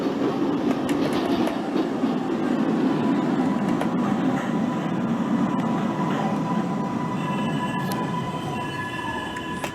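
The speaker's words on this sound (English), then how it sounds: "here we are into our next station. They've actually got really good brakes on these trains" A simulated NYC subway 6 train brakes into a station in a video game. Its rolling rumble and wheel noise carry steadily, then ease slightly as it slows, with brake tones near the end and no talk.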